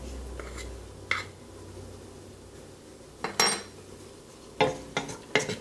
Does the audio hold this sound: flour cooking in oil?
yes